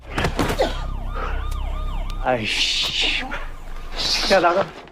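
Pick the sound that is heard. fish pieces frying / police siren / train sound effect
police siren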